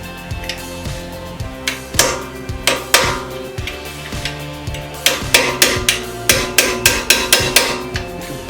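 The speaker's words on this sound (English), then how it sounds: "So we're going to use this and a hammer." A hammer taps out brake pins on a Maserati Ghibli SQ4 in a steady series of sharp, ringing metal strikes, pausing briefly midway before a quicker run of blows, close and loud.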